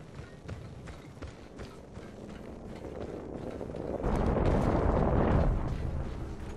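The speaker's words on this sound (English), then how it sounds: "I'm calling a Lifeline package in." A Lifeline care package lands in the battle-royale game Apex Legends, with a swelling whoosh that rises into a loud, broad rumble of impact near the end.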